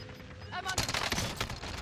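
Bursts of automatic gunfire in a battle royale shooter game, a sudden volley starting midway and rattling on in a dense, loud stretch to the end, with faint game voice audio beneath.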